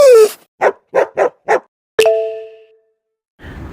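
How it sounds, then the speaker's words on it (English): A dog barks four times in quick even succession, then a bright ding rings and decays; a brief noisy sound follows at the end. "I am dog."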